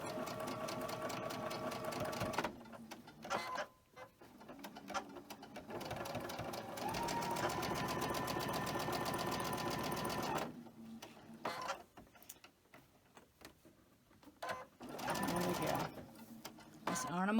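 A domestic sewing machine stitching cotton quilt pieces in bursts, a steady mechanical whir that starts and stops several times, separated by quiet gaps with handling noise.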